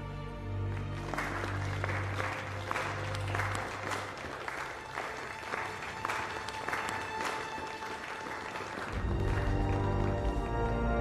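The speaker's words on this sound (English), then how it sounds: "Applaud your queen." A crowd applauds a queen with sustained clapping that rises over a low rumbling music bed, loud and continuous, swelling again near the end.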